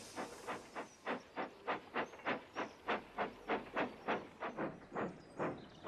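Rhythmic steam tram engine chuffing, a steady series of about twenty evenly spaced hissing puffs, loud and close, with a faint whistle-like tone above.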